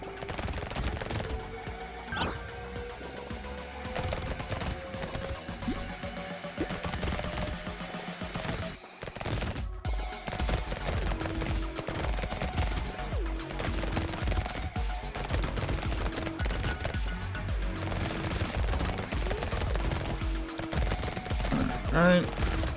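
Rapid SMG gunfire from the video game Brotato, a dense, continuous stream of automatic shots with game effects layered over it, loud and steady for most of the stretch with one brief drop in the middle.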